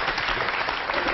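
Dense audience applause in a French television studio, steady and fairly close, filling the short moment without a break.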